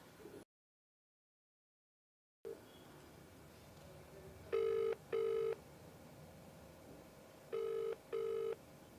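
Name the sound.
telephone ringing for an outgoing call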